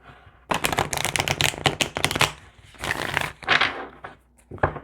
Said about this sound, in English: let's shuffle these one more time